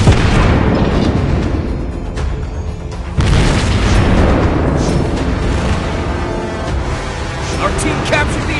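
Torpedo explosions in the naval battle game World of Warships Blitz: loud, continuous rumbling booms with dense battle noise throughout, one sharp new blast partway through, no pause between impacts.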